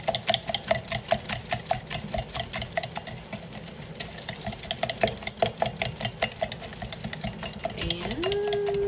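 A whisk beats an egg in a bowl with rapid, rhythmic ticking strokes, close and moderately quiet, with a short whine of another sound near the end.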